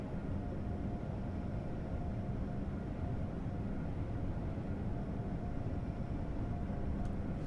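An Amtrak Acela train in Train Sim World 3 gathers speed with a continuous low, heavy rumble that holds steady and fairly loud throughout.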